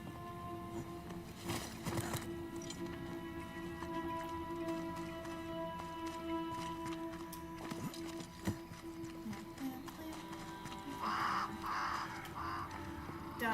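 Crows caw in the video game Banishers, a few raspy calls rising near the end over quiet in-game ambience and scattered clicks.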